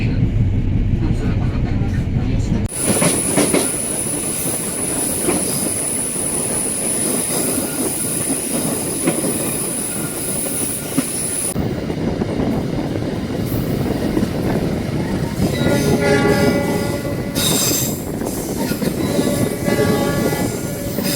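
Pangrango passenger train at a station platform, a loud steady horn blast sounding over rumbling rail and engine noise for several seconds, then fading into continued train and platform din with some talk in the background.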